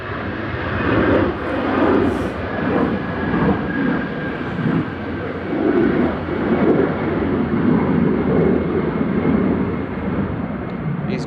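Airliner jet engines roar at Manchester Airport on a gusty day, with a steady, loud, broadband rumble that holds for several seconds and swells gently, heard at a moderate distance with no talking.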